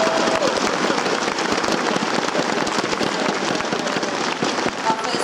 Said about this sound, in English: Can we get a round of applause for these players?